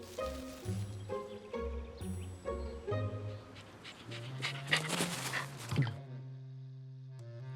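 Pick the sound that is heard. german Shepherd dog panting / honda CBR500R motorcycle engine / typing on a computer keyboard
german Shepherd dog panting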